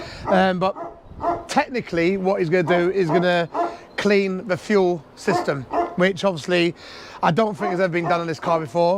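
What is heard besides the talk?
large dog barking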